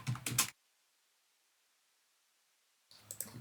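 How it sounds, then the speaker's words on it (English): A computer keyboard gives two short bursts of key clicks, one at the start and one at the end, separated by near silence, close and fairly quiet. "I'm going to hold down the shift button on my keyboard and click my central region"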